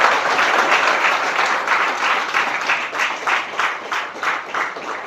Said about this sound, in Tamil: முக்கியமாக இந்த கைத்தட்டல்